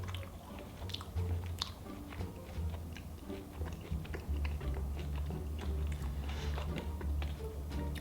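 Close-up chewing of sour gummy Nerds candy, soft squishy bites and steady wet mastication with small clicks, quiet and continuous.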